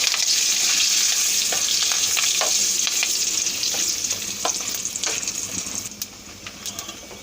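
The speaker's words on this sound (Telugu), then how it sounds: "2 బిర్యానీ ఆకులు, 2 రెమ్మలు కరివేపాకు వేసి వేయించుకోవాలండి." Two bay leaves and two sprigs of curry leaves fry in hot oil as a tempering for a country-egg curry. A close, steady sizzle carries occasional stirring clicks and fades toward the end, with no talking.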